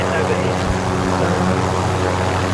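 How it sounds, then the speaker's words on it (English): A helicopter in a video game drones steadily overhead, its rotor and engine forming a continuous, fairly loud hum with a low throbbing pulse throughout. "There's a helicopter up top over here."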